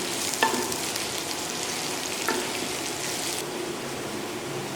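Onion and garlic fry in a pan with a steady, even sizzle, close and moderately loud, with a couple of brief stirring clinks and no one talking.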